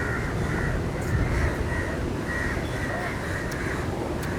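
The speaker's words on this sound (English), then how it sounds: "The crows are going wild." Crows cawing on a hotel terrace, a series of repeated harsh caws at moderate distance over steady outdoor background noise, with faint voices of people nearby.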